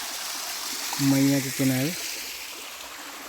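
A small waterfall stream spills into the Narmada River along its banks, giving a steady broad rushing hiss throughout. Someone speaks briefly over the water in the middle.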